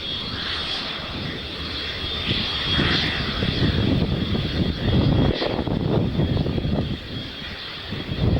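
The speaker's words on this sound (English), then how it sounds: "What a lineup of aircraft you can see in the background there, but especially those Tomcats." Aircraft engines roar steadily at an air show with Tomcats in the lineup, a loud continuous drone that swells and eases slightly, heard outdoors without talk.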